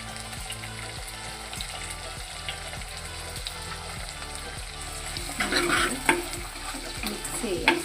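Onion, ginger, garlic and curry leaves sizzle in a hot pan with tomato and fenugreek, a steady frying hiss with rhythmic scrapes of stirring that grow louder and splashier near the end.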